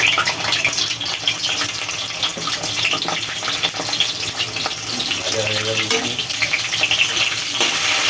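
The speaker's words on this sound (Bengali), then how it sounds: "উচ্ছেটা আমি ভালো করে ভেজে নেব।" Bitter gourd fries in mustard oil in a kadai with a continuous close sizzle and crackle, steady and fairly loud, with a faint clink of a utensil partway through.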